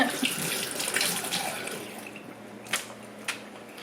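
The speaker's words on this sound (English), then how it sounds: "I'm going to wash my hands." Running tap water splashing into a sink as hands are washed in a home kitchen, a steady close hiss of flowing water with a couple of brief louder splashes near the end.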